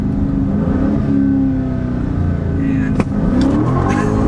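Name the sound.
2023 Chrysler 300C 6.4L V8 accelerating with tire spin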